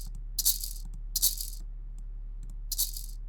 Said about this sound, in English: That's more of a shaker than a hi-hat